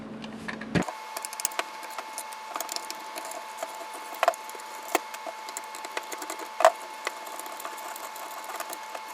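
Screwdriver backing screws out of a Futaba 4PL radio transmitter, a steady mechanical whir with scattered small clicks and ticks, close up and moderately loud, without talk.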